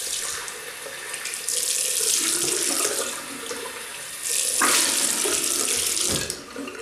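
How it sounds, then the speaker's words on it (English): Water runs from a tap in two long bursts, splashing and gurgling as something is rinsed under the stream. "Rinsed off, warm water."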